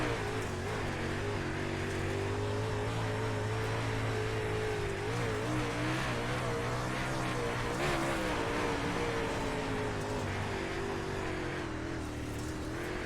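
A dirt race car in the iRacing sim at Port Royal, engine droning steadily with wavering pitch as it bogs down and labors, loud and continuous throughout with no talk.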